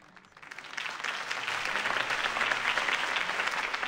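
Applause from a campaign-rally crowd follows a mayoral candidate's speech, a dense steady roar of many hands that swells in over the first half second and holds loud and even to the end, with no talk over it.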